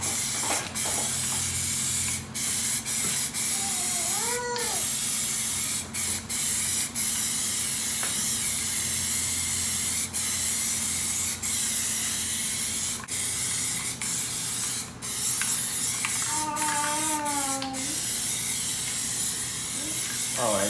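Plasti Dip glossifier sprayed from a can onto car rims gives a continuous close aerosol hiss that runs almost unbroken, with a few faint squeaks and clicks in the background.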